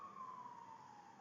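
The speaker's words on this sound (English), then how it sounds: "sorry about the sirens" An emergency siren wails faintly in the distance, one long slowly falling tone with no voices.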